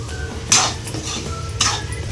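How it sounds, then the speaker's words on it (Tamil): A spoon scrapes and clinks against a pan while stirring and sautéing chicken kuruma masala with garam masala and chili powder, two distinct metallic scrapes over a low steady background. "நல்லா வதக்கி விட்டுக்கிறேன்."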